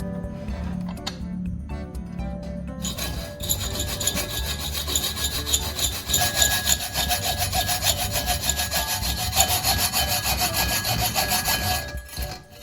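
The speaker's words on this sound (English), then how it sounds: "Using a fine file, I carefully worked on each tooth, making sure it maintained the correct angle." A fine file is drawn across the angled teeth of a saw blade being sharpened. A few light scrapes are followed by a continuous run of close, rhythmic metallic rasping strokes.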